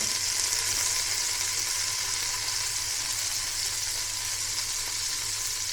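Butter melts and sizzles in a pan while a macaroni cheese sauce is being started, producing a steady, close, hissing fry that continues evenly throughout without any talk.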